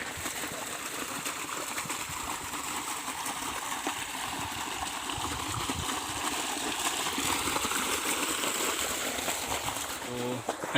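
Irrigation water gushing steadily into a farm field, a continuous broadband rushing flow that stays even and fairly close throughout, with faint background voices.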